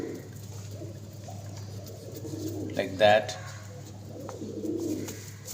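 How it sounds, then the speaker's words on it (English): Pigeons coo softly while being hand fed on a terrace garden, a short cooing burst rising briefly over a steady low background hum as a person talks nearby. "hand feeding of pigeons, hand feeding of crows"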